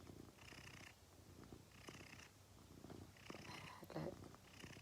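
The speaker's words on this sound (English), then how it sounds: "She purrs really loudly." A cat purrs softly and close by in a steady, rhythmic cycle, with a faint voice briefly underneath.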